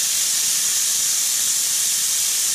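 Crab meat dropped into a hot pan with nutmeg and Swiss chard gives a steady, loud sizzling hiss that holds evenly throughout.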